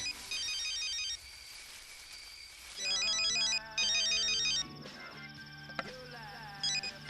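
A telephone rings with a repeating electronic ringtone in loud bursts with short gaps, in a dramatic movie scene.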